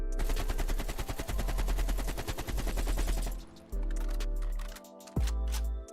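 AK-47 automatic fire in the video game Call of Duty Black Ops Cold War, a loud sustained rapid burst for about three seconds followed by two single heavy reports, with no speech.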